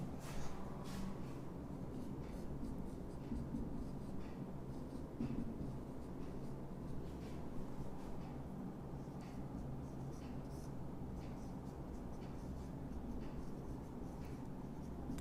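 Pen or marker writing during a physics lecture on current electricity, a steady scratchy stroke sound running continuously without pause through the whole stretch.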